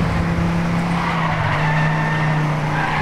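In the Trackmania 2 Canyon racing game, a car brakes and skids with a continuous, loud tire squeal over a steady droning engine for a few seconds.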